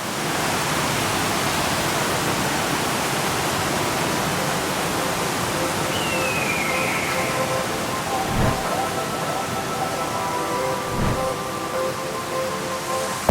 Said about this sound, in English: This is by far the craziest waterfall I've ever been to.